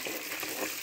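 Black pepper frying in a hot pan until brown for a peanut, brinjal and dried anchovy gravy, giving a steady, close, hissing sizzle with no talk.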